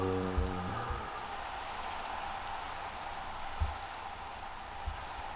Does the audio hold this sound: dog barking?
no